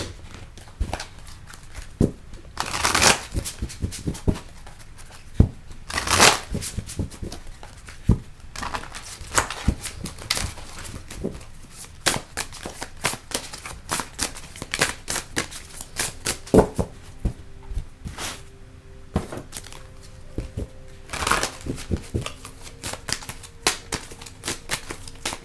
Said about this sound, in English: So let me get these shuffled up.